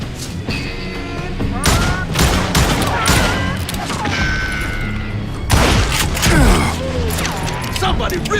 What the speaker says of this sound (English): Who's shooting at us? We're under fire!